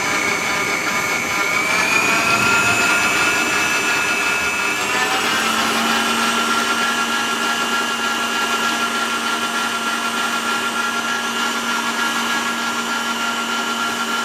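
A stand mixer running on low, beating a whole room-temperature egg into butter cookie dough, gives a steady loud motor whine with a slight pitch shift partway through, continuous and alone.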